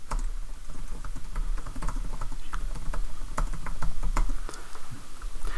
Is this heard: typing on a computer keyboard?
yes